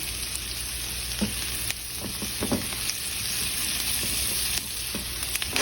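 Squash sizzles steadily in a skillet with kosher salt, a loud, close, even frying hiss with a few faint scrapes and taps of a utensil.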